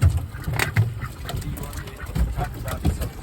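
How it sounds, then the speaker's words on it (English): Farm ducks quack repeatedly at sunrise as they approach a door, the calls coming in bursts at close range and loud over a low background, with no speech. "Here's the Nice. ducks. They're coming."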